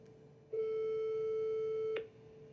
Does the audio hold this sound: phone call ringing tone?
yes